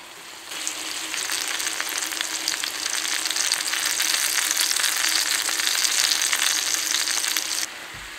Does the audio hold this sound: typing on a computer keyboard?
no